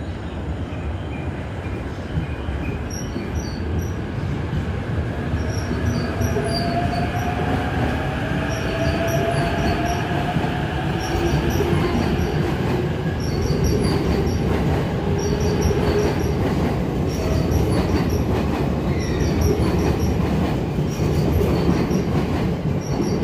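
A train rolls into Tokyo terminal station with steady rumbling and clacking wheels, then brakes with rising squeals as it slows to a stop; loud and close, no talking.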